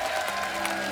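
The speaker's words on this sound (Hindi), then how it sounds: "आप सबकी जोरदार तालियों के बीच प्लीज वेलकम" A studio audience on a Hindi TV comedy show applauds loudly and continuously for an indie pop singer guest, a brief, dense burst of clapping.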